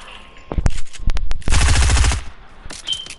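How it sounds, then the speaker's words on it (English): Shotgun gunfire in a video game, close and loud, with a few sharp separate blasts followed by a dense rapid burst and then quieter shots trailing off. "Shoot him once, boy. Just make one shot."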